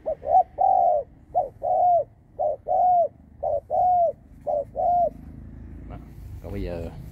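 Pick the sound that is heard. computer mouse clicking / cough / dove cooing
dove cooing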